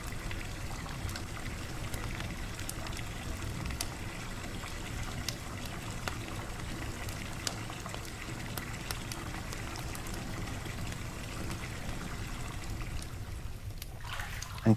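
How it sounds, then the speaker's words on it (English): Hot water pours steadily into a bathtub for the whole stretch, a continuous close trickling rush with a faint boiling, bubbling texture and no talk. "He filled the tub with hot water,"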